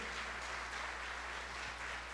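A church congregation claps in steady, sustained applause during a worship service, a dense wash of hands filling the room with no speech over it.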